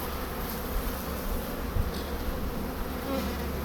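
A continuous, thick drone of Buckfast honey bees buzzing all around a hive frame at close range, steady and unbroken throughout.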